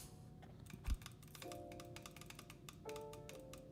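Mechanical computer keyboard keys tap and click in quick irregular bursts, close and fairly quiet, with one louder knock and a faint steady hum underneath; no one speaks.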